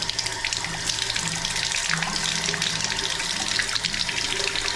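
A deep campground sink faucet at Elkmont Campground in the Great Smoky Mountains runs steadily, a loud, close, continuous splash and gurgle of water hitting the basin with no talking.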